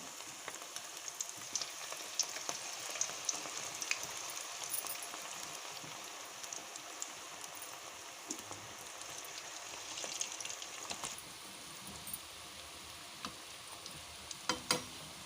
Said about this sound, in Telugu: ఇలా వేసుకున్న తర్వాత కొంచెం సిమ్లో పెట్టి వేయించుకుందాం